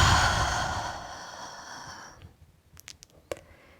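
A long, breathy exhale through the mouth fades out over about two seconds, close and soft, followed by quiet with a few faint small clicks.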